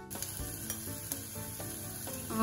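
Garlic is dropped into hot tempering oil and sizzles in a short, close burst of crackling fry noise with bits of stirring.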